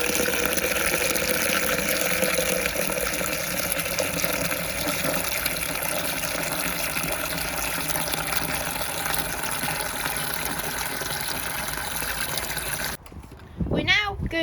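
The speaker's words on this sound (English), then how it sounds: "add some wood and pine needles into a bucket and fill it with water" Water gushes steadily into a bucket holding wood and pine needles, a loud continuous pouring and filling sound for about thirteen seconds before it cuts off, leaving brief quieter sounds at the end.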